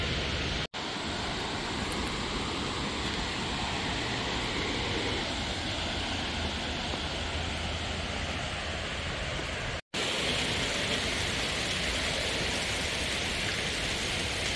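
A small waterfall at Letchworth State Park in upstate New York pours with a steady, loud broadband rush, broken by two brief dropouts.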